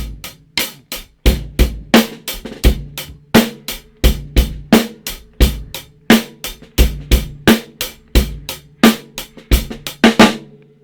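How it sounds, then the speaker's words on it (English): A drum kit plays a steady rock-style beat on hi-hat, snare and bass drum, with loud, close, regularly spaced hits repeating throughout and no talking. "The hi-hat, snare drum, and the bass drum are the three key instruments when playing a rock beat or a jazz beat"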